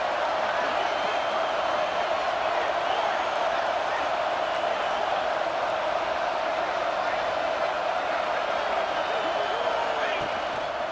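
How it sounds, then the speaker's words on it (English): A stadium crowd roars steadily in EA Sports College Football 26 as fans get behind the defense in the red zone, a dense, continuous wall of cheering with game commentary talking over it. "this crowd getting behind its defense"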